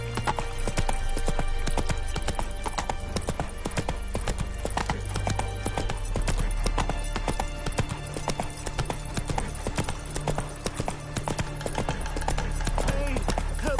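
Galloping horse in The Witcher 3: Wild Hunt, rapid rhythmic hoofbeats clattering steadily up close for the whole stretch, with a brief whinny, game ambience and a voice speaking over the hooves.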